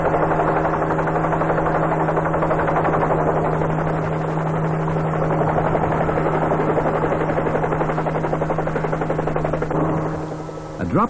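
A Sioux army helicopter, a light utility aircraft, produces a steady loud engine whine over a throbbing rotor beat with no letup across the clip. A narration voice is faintly present.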